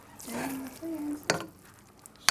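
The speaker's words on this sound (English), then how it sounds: "Alright, now just stir everything up." Cheesy chicken casserole mixture stirred in a dish, soft scraping and a couple of sharp utensil clicks against the side, with a voice speaking briefly over it.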